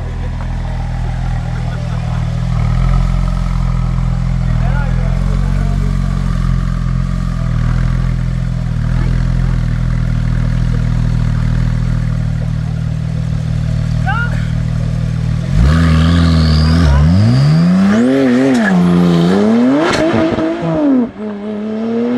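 A Porsche 997 Turbo accelerates hard in a roll race from 70 km/h, with a steady loud engine drone from inside the car, then a sharp surge of rising and falling revs as it pulls through the gears near the end.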